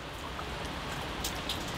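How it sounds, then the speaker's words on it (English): Steady rain falls outdoors as a storm brews, a dense, even hiss of drops with a few brighter spatters, fairly loud and with no voices. "It's raining now, so I gotta go inside."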